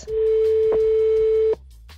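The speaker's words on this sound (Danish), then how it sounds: "Call to contact Steve Morlow Mobile in progress" A single steady phone call tone sounds through the Renault R-Link 2 in-car system, one loud sustained beep lasting about a second and a half before cutting off abruptly into near silence.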